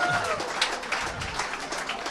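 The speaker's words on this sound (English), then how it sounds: "Ladies and gentlemen, can I get a round of applause" A podcast audience at a live comedy taping breaks into applause, a brief, fairly close burst of clapping with a few shouts mixed in, fading slightly toward the end.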